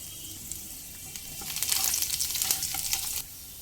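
Garlic, nigella seeds and dried chilies hit hot mustard oil, the sizzle swelling midway into a dense crackling fry with faint stirring, then cutting off abruptly near the end.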